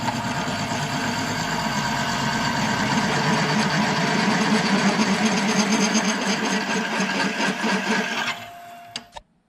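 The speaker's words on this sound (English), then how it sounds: "Right here's a little better close-up look of the hole saw I'm using." Hole saw cutting through 3/8 inch steel plate for a steering box mount: steady loud grinding whir of a drill with a rhythmic rasping cut, close and continuous, then winding down and stopping near the end.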